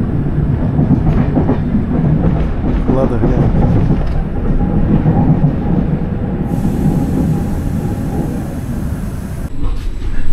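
Inside a noisy train carriage in Italy: a loud, constant rumble and rattle of wheels and car body with rhythmic clatter, while a person speaks briefly over it.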